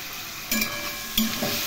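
Spices, cumin, chilli, ginger paste, salt and turmeric with potato and papaya, sizzling in a pan while being stirred, a dense continuous hiss with two brief louder stirring bursts, no voices.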